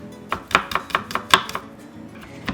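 Knife slicing garlic on a cutting board, about seven crisp, evenly spaced chops close up, then a pause and a final tap, with no talking.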